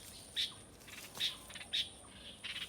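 Young pet birds give a few sharp, high chirps and squawks spaced apart, faint and close, over quiet background with no talk.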